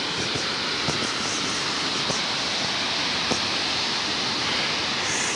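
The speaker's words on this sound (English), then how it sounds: "There's another waterfall that's running right through there." Steady, full roar of a waterfall along Eagle Creek Trail in Oregon, a constant rushing wash of falling water with no break, broken only by a few faint clicks.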